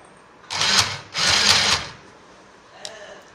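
A sewing machine stitches a chudi bottom in two close bursts of rapid, whirring needle chatter, each lasting under a second, followed by a faint click.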